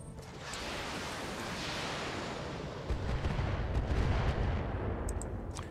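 Sustained weapons fire pounds at mechs in a BattleTech video game, a dense continuous rumble of shots and blasts that swells louder midway, heard alone without talk.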